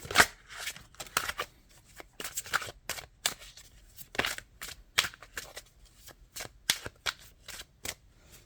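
A deck of tarot cards is shuffled and drawn, producing quick, crisp riffling and snapping bursts in an uneven rhythm, close and clear with no talking.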